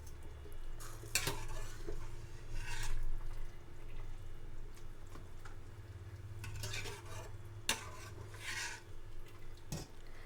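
Sri Lankan palmyra flour koozh is stirred in a pot, giving a steady soft scraping and swishing with a few louder strokes against the pot, close and continuous, with no voices.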